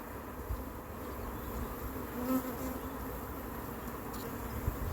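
Honeybees buzz in a steady, soft drone during a hive inspection, a faint, continuous hum without any talk.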